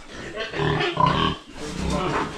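A pig at a livestock sale grunts and snorts in low, rough bursts close to the microphone, while a person's voice is heard in the background.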